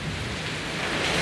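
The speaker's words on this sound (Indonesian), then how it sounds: "cuaca hari ini di Kabupaten Ciamis sedang hujan, turun hujan yang sangat deras sekali" Heavy rain pours down steadily in Ciamis, Indonesia, a dense, constant hiss of downpour with no pauses, fairly loud and close, and no voices.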